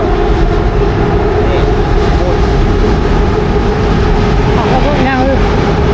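A high-speed train rumbles past at close range, a steady loud roar of wheels and engine throughout, with faint voices underneath.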